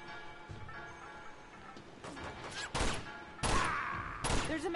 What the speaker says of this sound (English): Well, I know there's a machine gun